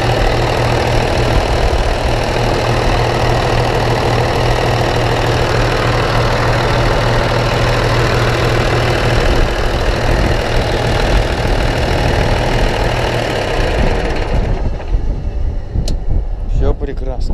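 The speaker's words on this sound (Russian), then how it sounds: "Бодренький моторчик" A small motor on a first field outing of the season runs and idles loudly at an even, steady pace for about fourteen seconds, then cuts off, leaving faint scattered clicks.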